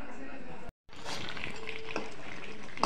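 Chicken cooks in a pan in a home kitchen, giving off a close, steady sizzle and the clatter of stirring. A brief gap of silence breaks it near the start, and background voices may sit underneath.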